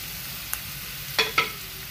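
Onions sautéing in oil in a pan: a quiet, steady sizzle close by, broken by a few short scrapes or clinks of a utensil, with no talking.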